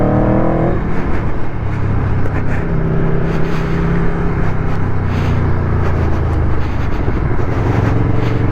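A motorcycle engine revs loudly and continuously during a ride, its pitch climbing and falling through the gears, heard up close with wind rush and no talk.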